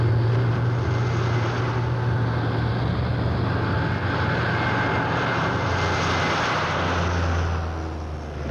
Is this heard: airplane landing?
yes